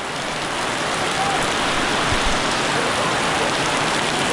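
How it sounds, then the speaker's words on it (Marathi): A sudden heavy downpour in Konkan in May roars as a dense, unbroken hiss of rain, loud and constant throughout. "एवढा पाऊस आहे तू विचारू नका एकदम मुसळधार पाऊस"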